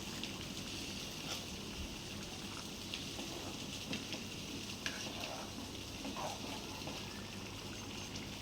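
Dried-fish curry (karuvadu kuzhambu) boils in a pot, giving a steady, dense bubbling and sizzling hiss that holds evenly for the whole stretch, close and moderately loud, with no voices.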